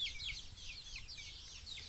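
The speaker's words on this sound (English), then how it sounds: "Those are hens that they're same age as the other ones, just they stay a lot smaller and they have small eggs" Small bantam-sized hens cluck and chatter in soft, repeated bursts close by, a continuous flock murmur with no talking over it.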